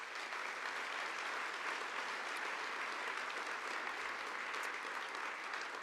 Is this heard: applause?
yes